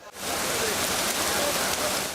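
Heavy afternoon downpour at a livestock market, a dense, even roar of rain hitting surfaces that starts abruptly and holds steady throughout.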